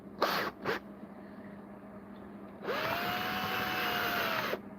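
A drill bit bores into a lock, two short whirring bursts followed by a steadier sustained whine, close and fairly loud, with a tonal pitch that drops at the start and rises at the end.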